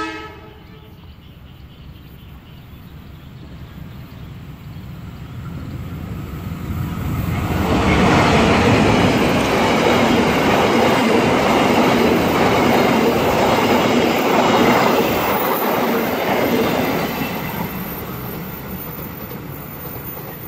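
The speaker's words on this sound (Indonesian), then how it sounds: "Nah, itu dia, keretanya sudah datang." A passenger train passing a disused station stop, approaching from a quiet start and then roaring close by with a loud, sustained rumble of wheels and carriages for several seconds before easing off, with no speech over it.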